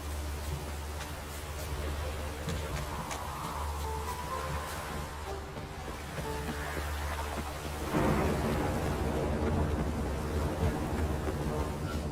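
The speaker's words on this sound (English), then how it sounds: "A storm, damn it." A thunderstorm in The Witcher 3 brings a dense wash of steady rain with low rolling thunder, building to a louder crash of thunder near the end over the continuous downpour.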